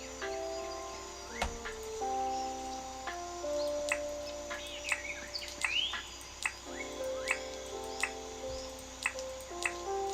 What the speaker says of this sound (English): Listen to those birds in Dinkum.